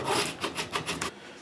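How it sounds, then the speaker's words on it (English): Japanese pull saw cutting the nut slot of a Les Paul guitar, a close rasping sound of about five quick strokes in a short burst, with no talk. "And this is the Japanese saw. Of course, it cuts on the pull stroke."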